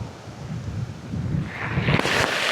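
Strong wind buffeting the microphone out at sea off Lobo, Batangas during fishing, a steady low roar that swells louder and brighter toward the end, with surf-like rushing and no speech.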